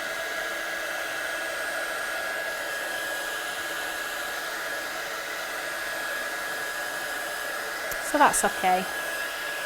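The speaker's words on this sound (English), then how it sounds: "you can use your heat tool in your Eureka, just don't use it direct onto the sponge mat because it will burn" A craft heat tool blows hot air in a steady, even whoosh for several seconds, used for light drying on stamping and watercolour work, with a short spoken remark near the end.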